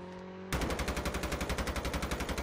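Rapid automatic gunfire in the mobile shooter Call of Duty Mobile, a loud, steady stream of close shots starting abruptly after a brief quiet moment and continuing without pause.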